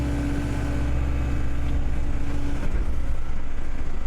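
A skid steer engine runs steadily while digging a ramp for a basement excavation, a loud, even diesel drone with faint clanks of the bucket in dirt, no voices.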